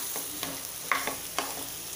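Potato stuffing with coriander is stirred in a pan for aloo paratha, giving a few soft scraping clicks and light spoon taps over a faint low sizzle, with no talking.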